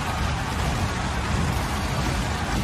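A rain sound effect plays during a wrestling entrance at a televised WWE SmackDown event: dense, steady, loud hiss of heavy rainfall filling the whole stretch without pause.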